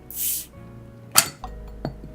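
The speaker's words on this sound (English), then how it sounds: "I need to use the big bottle opener because I don't know where mine is" A beer bottle is opened with a big bottle opener: a brief airy hiss comes first, then one sharp metallic clink, followed by a couple of softer knocks, all close and with no talking.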